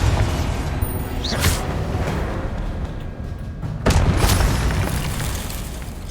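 Confringo fire blast spell explosions in Hogwarts Legacy, two sharp booming bursts about two seconds apart over a dense, rumbling game soundscape, with no talking.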